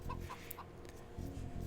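Chickens clucking inside a computer strategy game during an AI tournament match, a few short clucks and squawks near and clear over a steady low game background with no talking.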